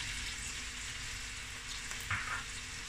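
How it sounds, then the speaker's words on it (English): Chopped onion fries in butter and oil in a pan, giving a steady close sizzle and crackle with a brief stirring scrape partway through, and no talking. "this is butter and oil. In with the onion. This is one onion chopped."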